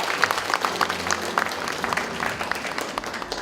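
Applause from an audience at a table tennis association chairman inauguration ceremony in Sangju, moderate and fairly distant, with scattered individual claps across a room and no voices over it.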